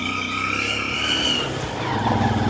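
A motorcycle speeds along a rough track in adventurous hilly terrain, its engine droning and shifting pitch up close as it surges ahead, with rattling bumps from the uneven ground.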